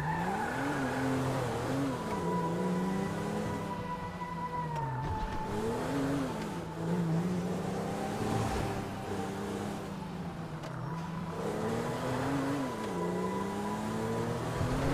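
A car driving around a city block in Grand Theft Auto V gameplay, its engine droning and rising and falling steadily through the whole stretch, with revs swelling and easing as it turns corners, loud and continuous.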